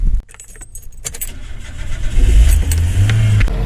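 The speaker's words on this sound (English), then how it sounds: "Now it was time to start the car." A car engine starts with newly replaced spark plugs, catching after a brief key rattle and a short quiet spell, then settling into a loud, steady idle with some revving that stays close by to the end.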